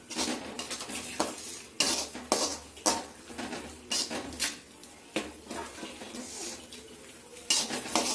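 A utensil scrapes and clinks against a metal pot in irregular strokes while stirring ginger garlic paste for chicken curry, moderately close, with faint kitchen background noise and no speech.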